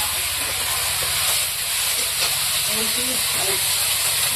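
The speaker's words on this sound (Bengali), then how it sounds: "আদা বাটা, মশলাটা ভালো করে ভেজে নেব।" Spice paste with ginger paste fries in a pan for a fish curry, a loud constant hissing sizzle that holds steady throughout, with a voice faintly underneath.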